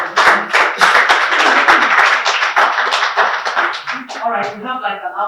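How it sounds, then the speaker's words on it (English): Loud, close audience clapping fills a hall at a Rome Business School business fair in Nigeria, steady and dense for about four seconds before a voice starts speaking over the fading applause. "A round of applause."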